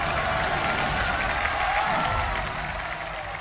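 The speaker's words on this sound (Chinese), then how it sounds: "掌声有请一号选手" Studio audience at a televised singing competition bursts into dense, loud applause that holds steady and then eases slightly toward the end, with no talk over it.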